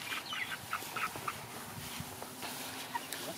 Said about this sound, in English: And all six of the chickens are in here.